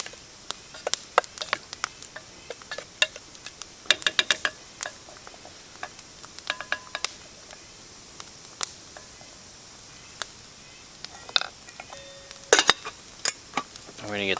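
A spoon stirs food seasoned with pepper in a metal camp billy pot outdoors, making sparse, sharp clinks and scrapes separated by quiet gaps, with a brief louder cluster of knocks near the end.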